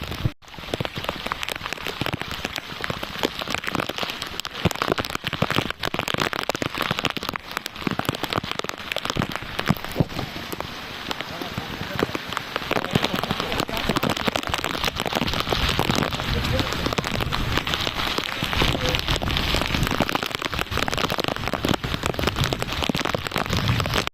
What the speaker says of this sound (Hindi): यहाँ पे बारिश काफ़ी तेज़ हो रही है